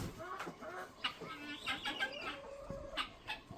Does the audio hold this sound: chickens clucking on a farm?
yes